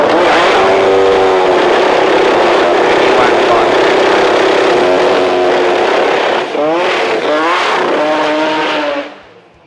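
A race car engine revs hard at a qualifying session, its freshly rebuilt motor holding a loud, steady drone before several rising throttle blips near the end, with commentary talking over it throughout.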